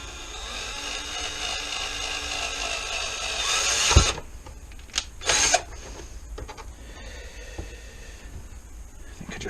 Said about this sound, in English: I think I just drilled the bench there.